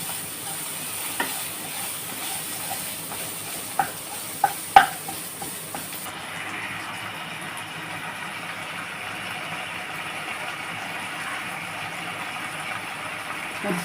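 Ingredients sizzle in a pan while papaya kulambu is sautéed, with a steady frying hiss and a few sharp clicks of stirring against the pan, no talking.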